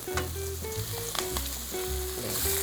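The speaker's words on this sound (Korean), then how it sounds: "그래서 새우를 이렇게 볶으세요" Shrimp and mushrooms fry in a deep wok with a little oil, giving a steady close sizzle with light stirring clatter and no talk.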